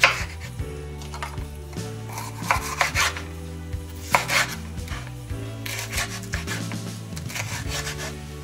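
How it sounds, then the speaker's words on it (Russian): A knife chops bell pepper into small cubes on a cutting board, a series of close, irregular taps and scraping rubs with short pauses between strokes, fairly loud and without talk. "Перец нужно нарезать мелким кубиком."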